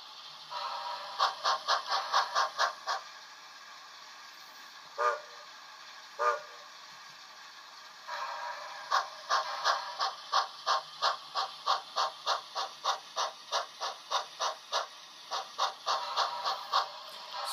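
A Bachmann 51807 model steam locomotive chuffs in rapid, rhythmic bursts, with short pauses and a couple of isolated puffs before the chuffing resumes steadily; close and clear with no talk.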